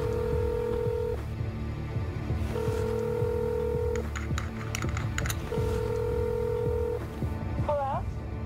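A landline telephone being dialed, with a series of distinct touch-tone beeps in short bursts separated by pauses, mixed with faint handling clicks and low background noise, close and fairly quiet.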